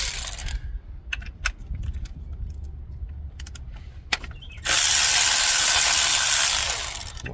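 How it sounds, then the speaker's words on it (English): A power tool buzzes in short bursts, then runs steadily and loudly for a few seconds, loosening two 14mm bolts during drivetrain work on a GR Corolla, with a sharp click just before the long run. "Then we're going to remove these 2 14mm bolts."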